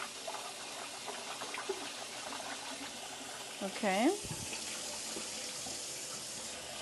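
Tap water runs into a drainer as food is rinsed in cold water, a steady close splashing wash throughout, with a brief spoken word partway through.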